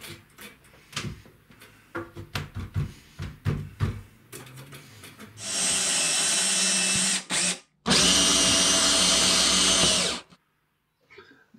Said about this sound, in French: tout de suite je visse au milieu de la caisse pour la stabiliser